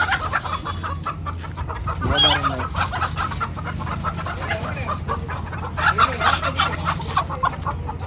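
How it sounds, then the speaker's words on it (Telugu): Chickens cluck steadily at a hilltop village fair in Telangana, moderately near, over a constant low hum and crowd murmur, with no clear talk. "ఉన్నాయి కోడిలు."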